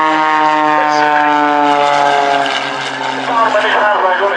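Steady propeller airplane engine drone during an aerobatic slow roll at an air show, loud and continuous with harmonic tones shifting slightly in pitch as the aircraft rolls, a voice speaking over it.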